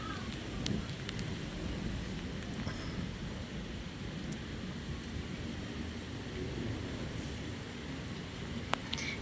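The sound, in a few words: heavy rain falling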